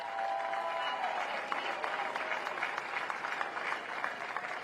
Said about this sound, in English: They're applauding for him right now